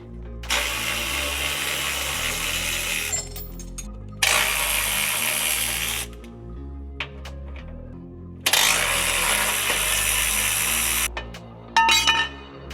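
A ratchet working on the bolts of a Toyota 4Runner transfer case, in loud bursts of dense mechanical clatter several seconds long, broken by quieter gaps with small clinks and taps.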